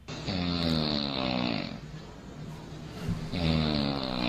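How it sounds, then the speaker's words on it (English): Loud, rasping snores, one long drawn breath followed by another after a short pause, close and harsh with a rumbling, engine-like buzz. "Who knows somebody that snores like this?"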